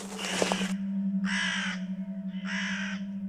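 A large bird caws from a house roof, three harsh calls spaced about a second apart over a steady low hum in the background.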